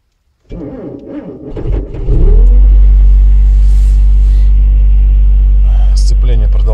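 A car engine cold start at -40°C frost: a straining crank over the first couple of seconds, then the engine catches into a loud, steady, close rumbling idle that holds to the end.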